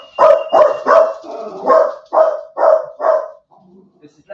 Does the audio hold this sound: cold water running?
no